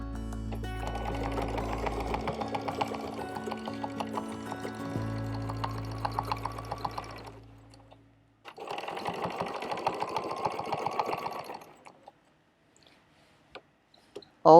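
Quilting oval patterns on a sewing machine: a close, steady mechanical stitching hum runs for several seconds, pauses briefly, resumes, then fades into near silence with a sharp click at the end.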